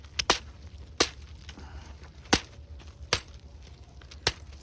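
A giant cucumber snapped apart by hand outdoors in a garden, giving five or six sharp, crisp cracks spaced irregularly over a quiet background.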